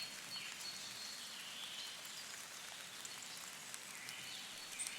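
Soft, steady rainfall patters evenly on surfaces, a gentle hiss with scattered drips and faint chirps far off, no voices.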